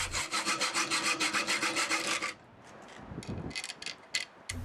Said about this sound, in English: For ease of assembly, I just trim the ends of the bolts shorter.